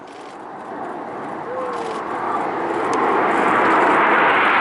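Red Arrows jets fly in formation at the Bournemouth Air Festival, a broad roaring rush that builds steadily louder as they approach, with a voice speaking over it.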